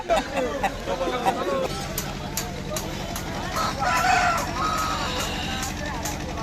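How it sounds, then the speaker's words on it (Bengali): Chickens, roosters and ducks at a large poultry market in the Sundarbans, with scattered clucks and calls over a crowd murmur, a steady rhythmic engine-like thrum, and people talking. "এখানে কত রকমের মুরগি, মোরগ আর কত রকমের হাঁস বিক্রি হয়।"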